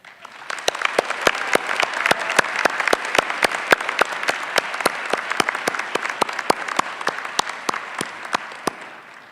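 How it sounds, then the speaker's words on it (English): Sparse, crisp clapping from a small audience at a 2021 evening and weekend MBA commencement, individual claps clearly separated and fairly close, holding a steady rhythm for several seconds. "I think we should take a moment to applaud one more time all our"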